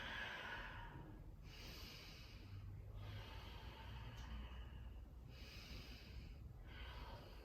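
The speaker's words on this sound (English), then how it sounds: "Breathe in. Yeah, breathe out." A person breathes deeply in and out during a home yoga session, long quiet breaths rising and falling in a slow, steady rhythm, faint and close with no talking.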